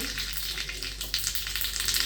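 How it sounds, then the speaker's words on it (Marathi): Close, crackling sizzle of cumin seeds frying in hot oil, a dense spitting hiss with small pops throughout. "आता त्याला जिऱ्याची फोडणी घालायची, मोहरी नाही घालायची।"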